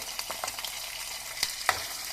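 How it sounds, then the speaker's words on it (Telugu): Oil sizzling and crackling as green and dried red chillies fry with ginger and garlic in tempering oil, with a few sharp pops and spatters over a steady hiss, close up and no talking. "పచ్చిమిర్చి ఎండుమిర్చి కూడా వేసుకోవాలి తాలింపులో"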